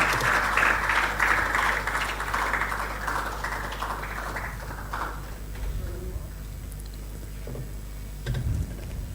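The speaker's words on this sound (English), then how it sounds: "Keep clapping, please, until they are seated." A conference audience applauds as speakers take their seats, a broad wash of clapping that is strongest at first and gradually thins and fades, with faint murmuring and a few scattered claps near the end.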